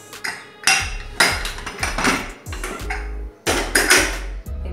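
A kitchen pressure cooker being opened after cooling, a series of sharp metallic clanks and scrapes of lid and pot, close and irregular, with no speech.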